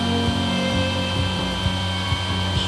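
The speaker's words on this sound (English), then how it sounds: "Just blowing up a pool float," An electric pump inflating a river pool float runs with a steady droning hum and a whirring upper layer, close and continuous, with faint ticks along the way and no talk.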